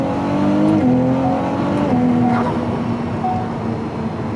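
A Ferrari 296 GTS with a twin-turbo 120-degree V6 runs loud and close, its engine note holding a steady pitch with a couple of brief shifts before easing slightly toward the end.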